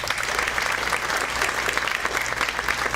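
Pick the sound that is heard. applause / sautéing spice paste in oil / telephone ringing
applause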